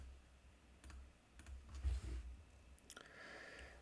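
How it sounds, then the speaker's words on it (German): A single computer keyboard key press confirming a command in CAD drafting software, a few faint clicks and taps in a quiet room with low background hum. "Ich bestätige das dann mit Enter."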